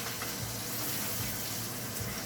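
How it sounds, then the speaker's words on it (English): Salmon fries in a generous amount of butter in a pan, giving a steady close sizzle with faint crackles and spits and no talking. "Right, so the salmon is on. It's just frying in a bit of butter."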